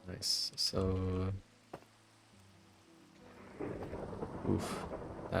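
Thunder from a lightning strike in Minecraft rolls in as a low rumble, with steady rain patter and scattered game sounds under it; a voice-like tone is heard early on.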